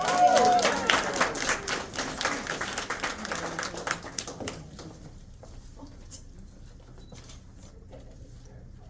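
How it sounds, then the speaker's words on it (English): Audience clapping for a guest during a Black History Month poetry event, a burst of applause that starts full and thins out over several seconds into scattered claps and quiet. "Give Miss Charles a nice round of applause, y'all."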